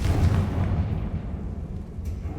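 A fiery Confringo blast spell erupts in the Hogwarts Legacy video game, a deep, rumbling explosion that booms loudly at the start and rolls on for a couple of seconds before slowly fading.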